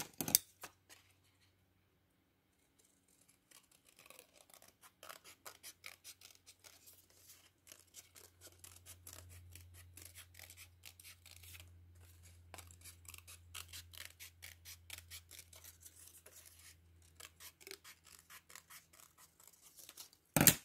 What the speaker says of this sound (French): Et je viens couper le cercle.